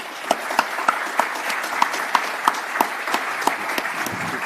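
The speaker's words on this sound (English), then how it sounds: "Could you please join me in giving our speakers a round of applause?" Steady applause from a conference audience at a wind energy policy and investment summit, honouring the panel speakers, with a few louder individual claps standing out against the sustained wash.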